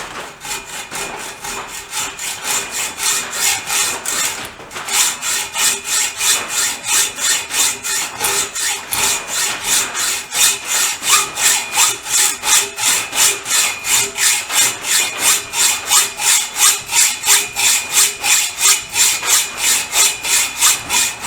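A hand saw cuts a piece of wood to length, steady rhythmic back-and-forth rasping strokes, loud and close, speeding up into an even fast pace after a brief pause.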